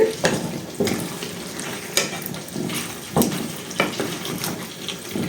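Paneer curry being stirred in a pan, a repeated rhythm of wet scraping strokes roughly once a second over a soft sizzle, close up with no talking.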